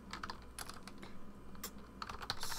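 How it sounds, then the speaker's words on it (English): Computer keyboard keys tapped in quick uneven bursts while code is written for a Roblox Lua GUI script, a close and fairly quiet clatter with short pauses between runs. "I'll type this code out beforehand though."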